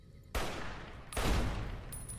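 An explosion set off in the video game Fallout New Vegas: two sudden, loud broadband blasts about a second apart, each sustaining a rough rumbling roar afterward.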